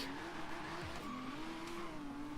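A Radical RXC Turbo at half throttle gives a long, wavering tire squeal over a faint engine drone, fairly quiet and distant throughout.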